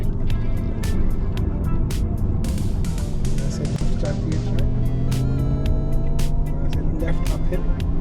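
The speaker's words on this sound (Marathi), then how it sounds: "बुद्ध इंटरनॅशनल सर्किटमध्ये मी गाडी चालवतोय" An MG Cyberster electric sports car drives on the Buddh International Circuit, giving a loud, constant road and motor whine with a rising tone and wind rush throughout, with people talking inside the car.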